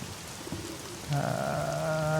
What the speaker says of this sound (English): we're walking across a like outdoor walkway as it rains